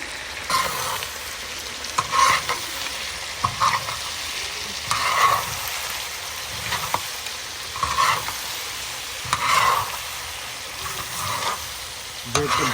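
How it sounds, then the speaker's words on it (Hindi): Spices and chicken liver frying on a hot tawa, a continuous sizzle with periodic louder bursts as the mixture is stirred and scraped, close and steady with no talking. "अभी तो मसाले डाले, मसालों को भूनने दो अच्छी तरीके से"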